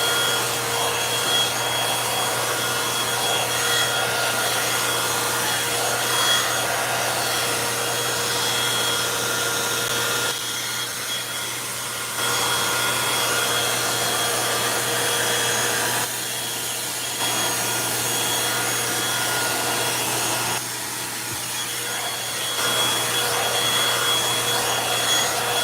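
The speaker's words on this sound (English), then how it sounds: "when I use my Revlon dryer, this small one, is I like to just go in sections" A small Revlon hair dryer blows steadily and close by, a broad airy roar with a constant motor whine that dips briefly every few seconds as it is moved through sections of hair, with no talking.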